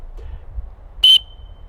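A small survival whistle from a camping survival tin gives one short, loud, shrill blast of about a fifth of a second, with a faint thin tone trailing on briefly afterward.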